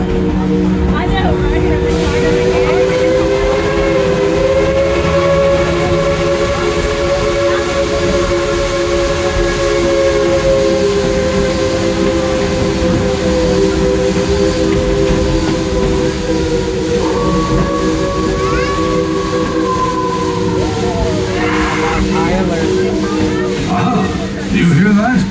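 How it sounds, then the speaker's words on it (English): Ghost train ride rumbling along its track as a sustained steam-style whistle wails in layered tones for most of the stretch, then shifts pitch and fades, with voices and ride noise beneath. "Werewolves have been alerted by the whistle of the Ghost Train."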